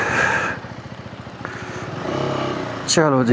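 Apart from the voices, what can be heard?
motorcycle being reversed and ridden off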